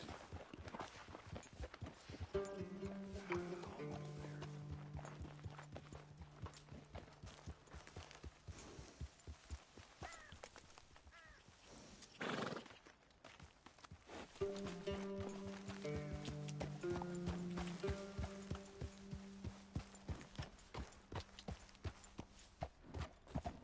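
Horse hooves clip-clop at a steady walking pace in the Western game Red Dead Redemption 2, close and continuous, layered over a sustained musical tone and ambient sounds, with a brief lull midway.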